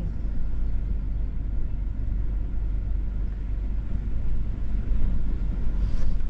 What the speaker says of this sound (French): quand même des bonnes rafales de vent